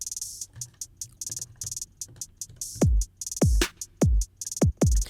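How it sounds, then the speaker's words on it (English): Electronic drum loop built in Ableton Live 10 with kick, snare, closed hi-hats and open hi-hats; crisp hats tick in a steady pattern, and deep punchy kicks join in the second half, loud and alone. "We've got the kick there, the snare, the hats, and the open hats."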